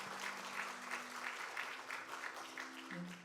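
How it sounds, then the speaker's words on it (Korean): A church congregation at a Sunday joint worship service welcomes a deaconess to the front with a big round of applause, steady crowd clapping, faint overall, with a low hum underneath. "우리 한번 큰 박수로 집사님 맞아주시기 바랍니다"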